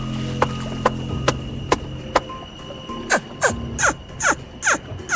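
Water splashed hard to imitate a large crocodile lunging through a river, a run of sharp slaps that grows louder and quicker toward the end, close and alone.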